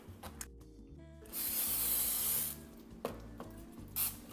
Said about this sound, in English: Now we'll spray the pans.